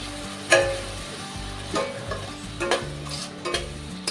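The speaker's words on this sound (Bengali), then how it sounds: "এবার আমি এর মধ্যে বেটে রাখা মশলাটা দিয়ে দিচ্ছি" Ground spice paste hits browned onions in hot oil for Bengali-style katla fish kalia, sizzling steadily with several sharp stirring scrapes of a spoon against the pan.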